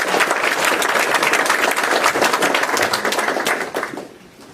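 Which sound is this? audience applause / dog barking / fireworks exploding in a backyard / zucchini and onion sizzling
audience applause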